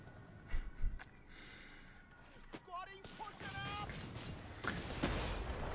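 Scattered gunshots and small bursts of fire from a Company of Heroes 3 tournament match crack out faintly at a distance, a few separate reports spread across several seconds, with people talking over the battle noise.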